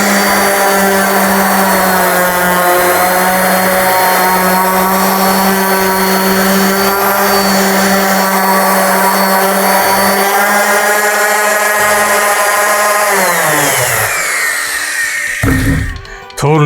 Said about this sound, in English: let's switch over to the good old everyday electric powered random orbit disc